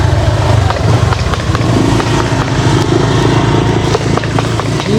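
A motorcycle passes along a small canal-side road in Angono, Rizal, its loud engine rumble filling the scene with steady broadband noise and no talk.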